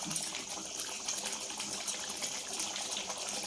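Egg curry with tamarind and chili simmering in a pot, giving a steady close bubbling and gurgling hiss with no talk over it.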